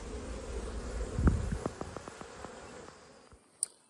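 Honey bees buzzing at an opened hive during a springtime inspection and split, a close steady drone with a few tapping clicks and a brief knock before it fades away.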